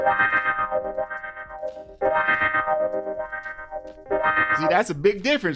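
Guitar strum sample processed through chorus, echo, tremolo and wah-wah effects, producing a wavering, sweeping tone in repeated phrases, with someone speaking briefly near the end.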